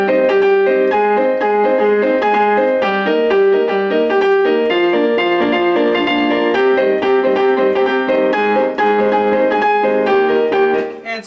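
Salsa-style piano plays a song, with busy syncopated chords and a bright melody ringing out loud and close, alone and unaccompanied.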